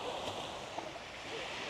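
Waves break and wash onto a beach in a steady, broad rush of surf, with no clear individual crashes.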